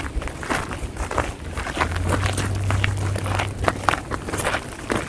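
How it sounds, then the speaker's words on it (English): Footsteps crunch across a gravel walkway outdoors, a steady stream of gritty crackling steps at walking pace, moderately close, with a faint low hum in the background. "the new environment has a gravel walkway, which sounds like this"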